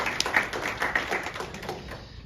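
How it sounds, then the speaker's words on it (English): Applause at a town hall meeting: scattered, fairly close hand claps from a small group, uneven and brief, without speech over them. "Can we give them a round of applause?"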